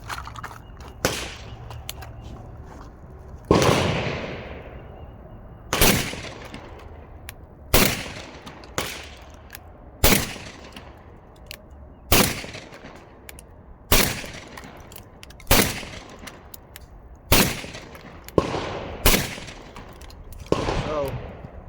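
Beretta semi-automatic shotgun, either a 1301 Tactical Mod2 or an A300, fired repeatedly outdoors: about a dozen sharp, loud reports spaced a second or two apart, each trailing into a brief echo, with faint talk in between.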